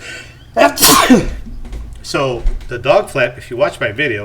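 A person gives one loud, close sneeze indoors, then keeps talking at a steady pace.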